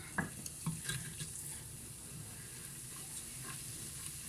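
Flour fries in palm oil with a quiet, steady bubbling hiss and a few soft scrapes and clinks of stirring near the start; no speech.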